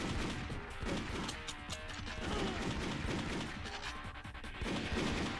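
Gunfire from the PS1 game VIP Pamela Anderson, a dense, steady stream of sharp shots and impacts at low volume across the whole stretch, with a brief voice heard once.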